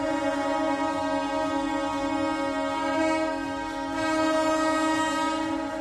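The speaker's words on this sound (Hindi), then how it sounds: "सीएसटी रेलवे स्टेशन पर खड़ी लोकल ट्रेन के लोको पायलट ने हॉर्न बजाने शुरू किए।" Local train horn at Mumbai's CST railway station, a loud sustained harmonic blare that continues unbroken, swelling slightly in its later part, with no talk over it.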